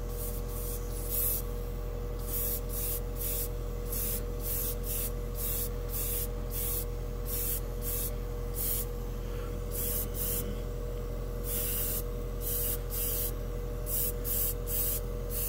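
A Badger 105 Patriot airbrush sprays Tamiya Light Green paint thinned with lacquer, giving short repeated bursts of soft hiss over a constant compressor hum.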